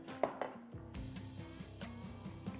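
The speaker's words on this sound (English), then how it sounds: "Just gonna take a few slices from here." A chef's knife slicing through a smoked honey glazed ham, with a few sharp cuts onto a board followed by softer scraping and knocks, close and moderately quiet.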